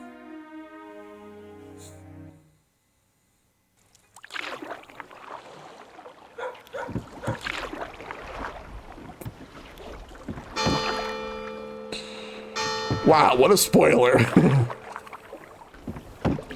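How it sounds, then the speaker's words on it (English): Oars splashing as a boat is rowed in a retro video game, with rhythmic water strokes and game effects following a short musical jingle and a pause; a voice briefly talks over it. "They're just rowing a boat"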